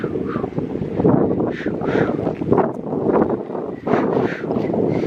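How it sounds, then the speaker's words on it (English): Wind blows across the microphone outdoors on a shopping trip with a small child, a loud, steady low rumble with gusty swells that runs through the whole stretch. "You feel the wind? He feels the wind on his face"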